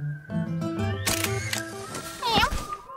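A camera in a Postman Pat cartoon snaps a picture with a crisp shutter click and whir, loud and close, amid the show's music.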